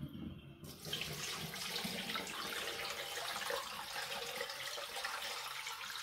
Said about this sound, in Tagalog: Tubigan na natin